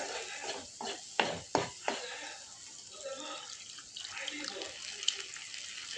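Soaked tamarind water poured into a cooking pan, a soft liquid splash and trickle with a few sharper pours early on, then a quieter running flow, close by and moderately faint.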